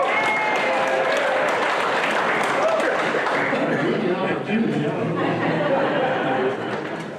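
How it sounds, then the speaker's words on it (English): Dense, steady applause from a Rotary meeting audience during a police recognition ceremony, loud and sustained throughout with some chatter mixed in, tapering slightly at the end. "Usually somebody applauds from the west side."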